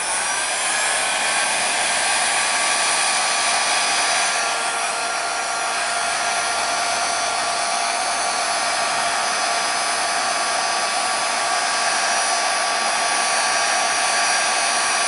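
A heat tool blows steadily to warm the end of a blade, a loud continuous whooshing roar that holds unbroken throughout with no talking.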